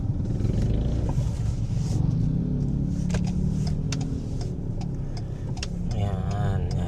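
Busy road traffic with car engines idling and moving past, a constant low rumble with scattered ticks and clicks, a brief whine near the end, and faint voices in the mix.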